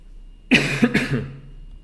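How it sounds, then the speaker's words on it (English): A few coughs from a person, two or three close bursts in quick succession near the mic, with quiet room tone before and after. "Sorry, I keep coughing."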